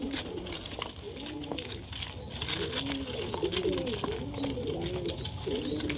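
Several pigeons on a rooftop coo while feeding on a gloomy, rainy day, a steady chorus of repeated throaty rolling calls over a constant background hiss.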